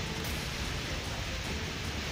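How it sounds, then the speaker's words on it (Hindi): Heavy, continuous rain falls in Uttarakhand, a steady broadband hiss of downpour heard quietly and evenly with no voices. "उत्तराखंड में बीती रात से लगातार बारिश हो रही है"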